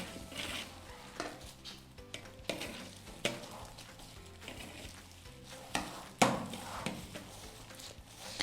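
A spoon spreads filling across a birthday cake in a home baking lesson, making soft scraping and repeated clinks and taps against the cake and dish, close by, in irregular strokes with no talking.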